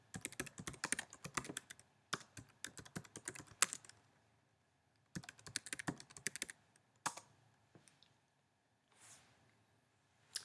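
Quick bursts of close, clattering computer keyboard typing entering login details, separated by pauses and a couple of single key presses, with no talking.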